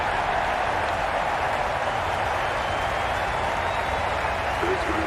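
A cricket ground crowd cheers and applauds in a sustained, noisy wash of clapping and voices, steady and distant-sounding throughout.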